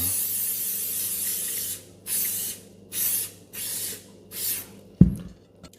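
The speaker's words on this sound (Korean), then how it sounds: "저는 식용유 스프레이 사용했는데" Cooking oil spray misted into an electric rice cooker pot: a long hiss followed by four short bursts, close and crisp, ending with a knock as the can is set down.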